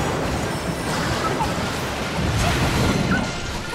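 Dense, continuous battle noise from attacks in Hyrule Warriors: Age of Calamity, with smashes, impacts and whooshes layered into a loud, unbroken roar with no clear gaps.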